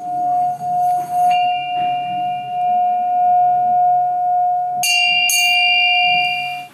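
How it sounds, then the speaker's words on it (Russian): A sustained, pure metallic ringing tone hums steadily with shimmering overtones that swell and brighten as the rim is rubbed, loud and close. "при вращении колокола можно получить высокочастотный звук."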